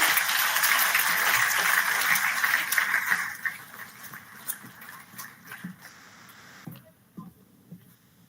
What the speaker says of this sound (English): make sure you give him a huge round of applause to